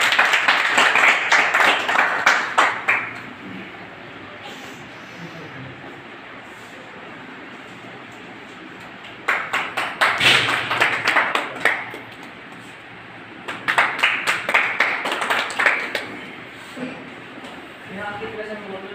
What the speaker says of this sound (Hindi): मैं एक बार चाहूँगा आपकी जोरदार तालियों के साथ ओम प्रकाश जी सैनी फ्रॉम दौसा